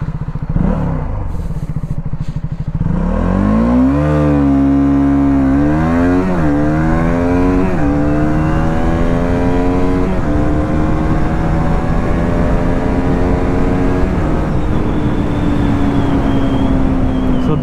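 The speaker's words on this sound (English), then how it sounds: "Duke 200 is actually quite a quick motorcycle here" A KTM Duke 200 motorcycle revs up loudly and accelerates hard through several gear changes. The engine note climbs repeatedly and then holds at a sustained high drone, with no talking.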